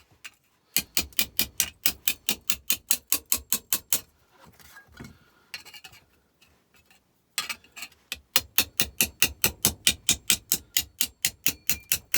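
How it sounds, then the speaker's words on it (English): A homemade air chisel hammers a debit card reader in fast, sharp rhythmic bursts, stops for a few seconds of quieter handling noises, then starts hammering again. "redneck air hammer,"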